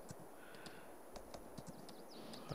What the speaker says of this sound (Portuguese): meu cavalo tinha só um trotezinho